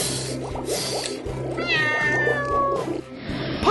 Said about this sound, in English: the kitten is here